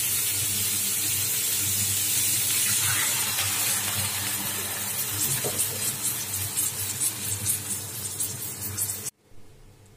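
Water pours into a cooking pot while a Chinese-style dish of radish with minced fish is being prepared; a steady, close splashing and running-water rush continues for about nine seconds, then stops abruptly.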